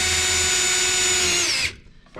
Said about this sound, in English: I don't get a bunch of tear out when I drill through